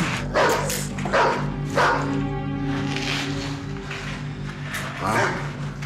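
Dogs barking around a dog-fighting ring, with several loud sharp barks in bursts over a steady low engine-like hum.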